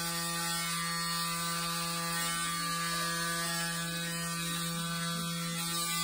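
A Braun Series 9 Wet & Dry electric shaver runs with a steady, loud mechanical buzz that holds constant throughout, with no one talking.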